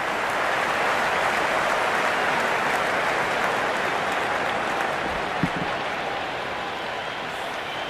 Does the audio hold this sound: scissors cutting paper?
no